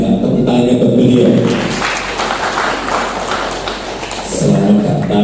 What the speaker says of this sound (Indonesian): Tepuk tangannya buat beliau.